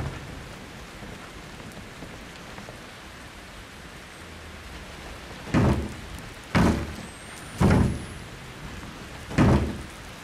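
Rain in the horror video game Outlast 2, a steady soft hiss of falling rain throughout, broken late by four loud sharp bursts in a fairly even rhythm.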